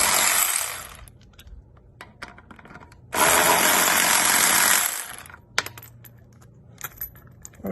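An Enegitech 12V electric ratchet wrench whirs in reverse for about two seconds as it backs off a car lug nut, with metallic clinks and handling noises before and after.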